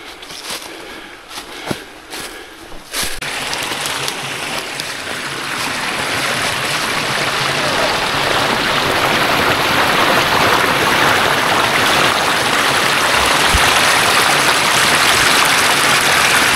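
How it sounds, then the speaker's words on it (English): A small cascade of water on a forest stream along a hiking trail, a few faint clicks at first and then a steady, loud broadband rush of falling water that builds and holds. "A little wee cascade over there."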